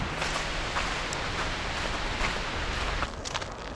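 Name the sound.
strong wind blowing outside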